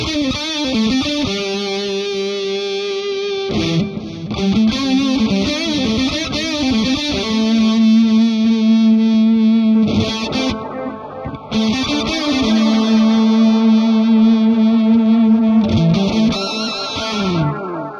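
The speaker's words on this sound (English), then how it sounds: "Let's throw a little bit of distortion in front of it to hear what it sounds like with it." Electric guitar played through a Wampler Velvet Fuzz distortion pedal into an Eventide H9 Harmonizer, sustained fuzzy chords and held notes ringing loudly and continuously with thick, saturated distortion.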